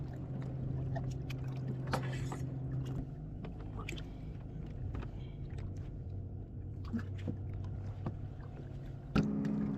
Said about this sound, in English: in this clip you can still hear boats from takeoff actually blasting off